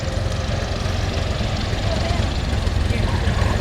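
A Fokker D VII vintage biplane's engine drones steadily and loudly, close by, as the heavy World War I fighter taxis at an aerodrome, with no pauses in the rumble.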